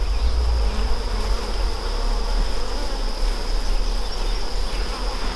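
Honeybees drone at a thickly populated hive fed on syrup and pollen, a dense, continuous close buzz with no voices.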